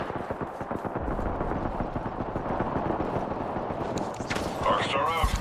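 Rapid automatic gunfire in a battle royale video game, dense bursts of shots rattling continuously for several seconds, loud and close, with game effects rising near the end.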